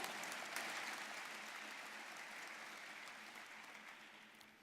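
Audience applause in a Lincoln civic gathering, a steady, fairly quiet wash of clapping that holds evenly for several seconds and slowly thins toward the end, with no voice over it.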